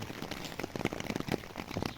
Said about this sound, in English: just chill out, listen to the rain, fall asleep